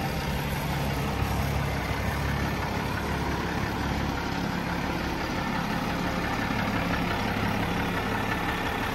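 A Unimog 416 truck engine runs in crawler low range, a steady, rough, mid-loud diesel drone that stays even throughout, with no voices over it.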